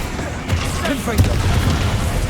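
The Confringo fire spell in the Hogwarts Legacy video game, a dense rumbling blast and whooshing burst with low booms, mixed with game sound and a voice in the same moment.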